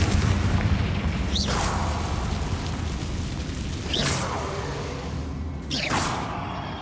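Three Confringo fire-spell blasts in the Hogwarts Legacy video game, each a sharp whooshing burst and boom spaced a couple of seconds apart over a dense, loud game soundscape.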